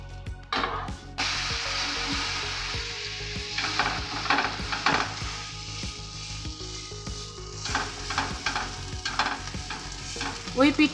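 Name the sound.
bread roll frying and sizzling in a pan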